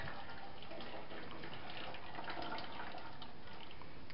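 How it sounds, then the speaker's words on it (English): A mixture of lye (sodium hydroxide) and distilled water is poured carefully for soapmaking, giving a close, continuous stream of liquid splashing with no talking. "this is the lye, or sodium hydroxide, mixed with the distilled water. And we're just going to pour it in carefully."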